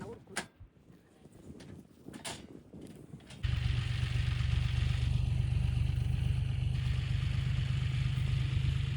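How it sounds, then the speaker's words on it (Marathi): A tractor engine starts up and runs steadily in a field at sowing time, a loud, continuous low chugging drone that holds for the last five seconds, after a few faint knocks and clatters. "त्याला ट्रॅक्टर चालू आहे."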